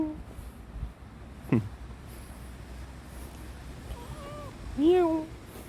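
A voice imitating a cat's meow, a drawn-out rising and falling call near the end, outdoors on the way to Dong-baek Lake Park, with an earlier short vocal burst over steady low wind and ambient noise.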